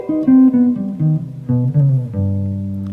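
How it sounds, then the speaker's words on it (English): A jazz guitar plays a C melodic minor arpeggio across two octaves, a quick run of clean single notes that ends on a sustained tone, with no talk. "Basic melodic minor arpeggio is going to be a major arpeggio with the third flatted."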